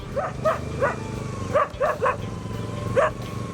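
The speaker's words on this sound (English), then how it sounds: "I disturbed a few dogs who were sleeping on the beach" Several dogs on a beach bark in short bursts, paired and spaced yeps at moderate distance, over a steady low engine-like hum.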